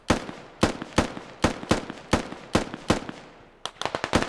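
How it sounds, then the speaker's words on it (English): Gunshots fired out a window in a multiplayer military shooter game, a string of sharp loud reports spaced about half a second apart, then a quicker rattling burst at the end. "Stretch is now taking pot shots out the window"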